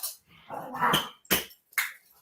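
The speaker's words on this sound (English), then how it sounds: "Dogs." Dogs barking indoors in a home: a loud, close run of sharp barks mixed with a whimper, coming in three quick bursts with short pauses.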